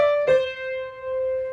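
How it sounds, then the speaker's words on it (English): A single harsh piano note from a key forced down too fast, struck loudly and then sustaining with bright ringing overtones as it slowly decays, played alone. "you must make sure to control the speed of key descent in order to avoid having a harsh sound."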